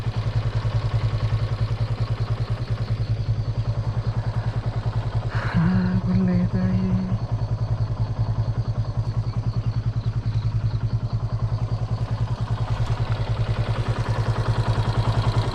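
Motorcycle riding through a tea estate in Wayanad, a steady close engine drone with rhythmic low putter throughout, a brief mechanical clatter midway, no voices.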